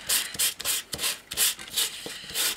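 A die-cut embossed paper piece rubbed over with a sanding block, giving a run of quick, close rasping strokes in a steady back-and-forth rhythm, about ten short scrapes with no talk.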